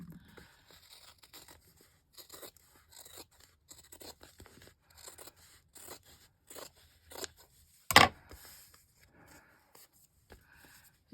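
Scissors trim the cover of a handmade journal in a run of short, soft snips, with one sharper, louder cut partway through, close by in a quiet room.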